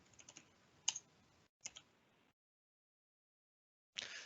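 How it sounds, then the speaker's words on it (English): Keys tapped on a computer keyboard while text is entered into a PowerPoint 365 slide, a few quick close clicks in short bursts separated by silence, with no talking. "As I start to add text, I can just start typing in details."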